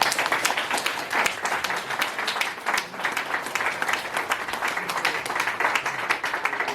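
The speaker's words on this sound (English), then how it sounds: "So if we can give him a round of applause." Audience applause at an eighth-anniversary community celebration: dense, steady clapping from a crowd fills the whole stretch at an even, sustained level.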